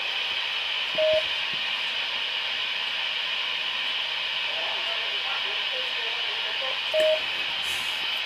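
Background noise from an amateur radio node transmitting on about 147 megahertz, a continuous broad hiss with two brief beep tones, steady and moderately loud.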